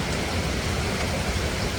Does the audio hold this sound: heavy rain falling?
yes